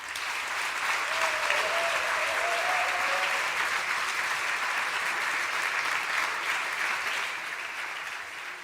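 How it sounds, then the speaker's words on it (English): An audience applauding after a business plan competition pitch, steady dense clapping from a crowd that holds for several seconds and tapers slightly at the end. "it deserves another hand of applause that you did this alone"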